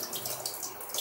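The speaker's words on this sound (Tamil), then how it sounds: "ரெண்டு மூணு தடவை கழுவிட்டு தண்ணி இப்போ வடிச்சிட்ருக்கோம்" Water drains off washed horse gram in a kitchen, a brief, faint splashing trickle lasting about a second.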